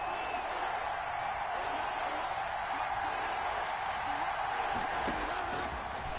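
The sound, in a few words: stadium crowd cheering in a PS4 football video game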